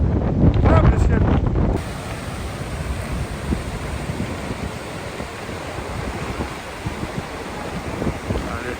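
Strong wind gusts buffet the microphone beside a waterfall in Iceland, a loud blast at first settling into a steady rushing roar of wind and distant falling water, with no talk.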